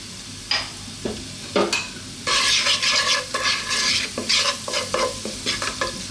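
Spaghetti aglio e olio sauce of garlic and oil with black pepper and chili flakes sizzling in a pan over low heat, a close sizzle broken by bursts of stirring and scraping that turn into a steady frying hiss.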